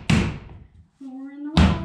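A basement door is kicked open with two heavy broadband slams, one near the start and one near the end, separated by a quieter stretch holding a brief low tonal creak or hum.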